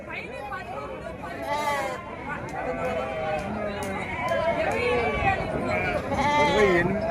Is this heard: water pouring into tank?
no